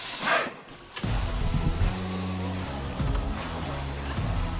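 A car drives through the Emsland region of Germany, its engine a steady, fairly close hum with tones that shift as it moves, and no one speaking.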